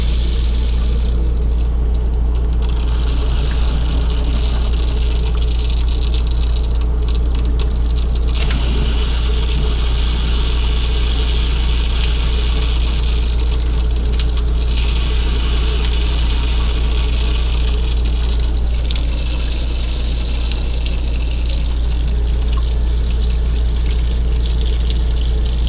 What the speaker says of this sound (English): The hot water doesn't seem to have the same amount of flow that the cold water does.